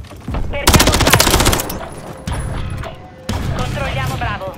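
Rapid bursts of automatic gunfire and single shots crackle loudly in a Call of Duty: Modern Warfare III battle on PS5, with voices calling out over the shooting.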